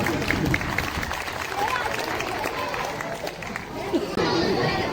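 Audience clapping at a children's church Christmas program, a dense, steady wash of hands filling the room with crowd noise throughout, swelling slightly near the end.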